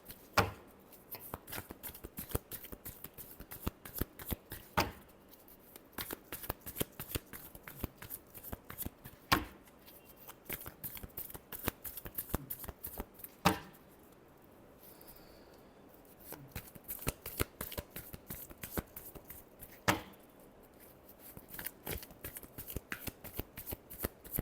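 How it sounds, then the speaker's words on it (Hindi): Tarot cards are shuffled by hand in a long series of crisp riffling bursts and taps, close and quiet, steady in rhythm with short pauses and no speech. "Last shuffle."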